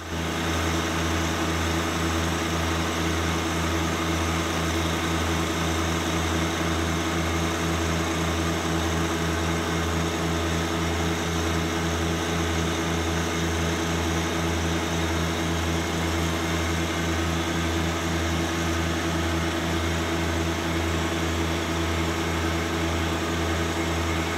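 A compact tractor engine, either a Kubota BX or a Deere 1025R, runs at wide open throttle during a front loader lift test, giving a steady, loud drone with a strong low hum that holds unchanged throughout, with no talk over it.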